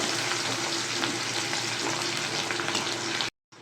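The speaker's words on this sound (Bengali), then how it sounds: "পেঁয়াজটা হালকা ভাজবো, বেশি ভাজবো না, হালকা ভেজে নেব।" Chopped onion fries lightly in a pan with a steady, close, dense sizzle that runs unbroken for over three seconds and then cuts off abruptly.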